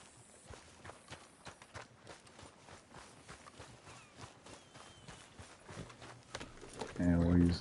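Horse hooves clip-clop in a steady galloping rhythm while riding in the video game Red Dead Redemption 2, moderately loud beneath someone talking, with a louder burst of sound near the end.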